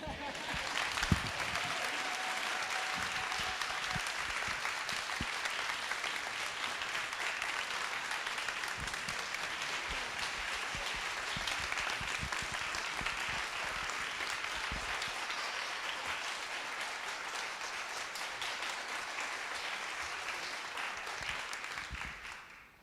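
Long, steady applause from a church congregation during Sunday worship at First Parish in Concord, a broad, even roar of many hands clapping that holds for over twenty seconds before stopping abruptly.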